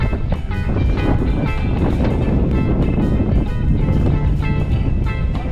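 Strong wind by the sea at Portsmouth batters the microphone as a steady, loud roar with gusty rumble, filling the whole stretch without letup.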